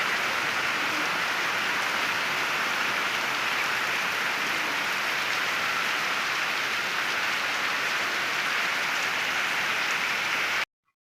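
Steady, heavy rain falls continuously on surfaces nearby, a dense, even hiss of drops with no voices, cutting off abruptly at the end.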